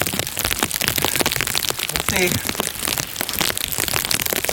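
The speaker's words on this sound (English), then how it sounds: "The rain is supposed to stop though." Steady rain pattering on surfaces in a forest in Plumas National Forest, California, a dense continuous hiss of drops close by, with a person briefly speaking over it.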